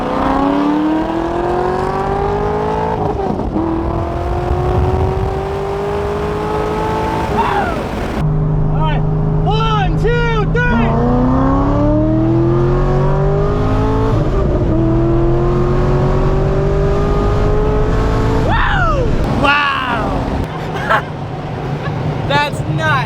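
Loud, close engine roars of a Corvette and Dodge Hellcats racing side by side, repeatedly revving and accelerating through rising gear pulls with shifts in between, over roughly twenty seconds, with voices heard beneath the engines.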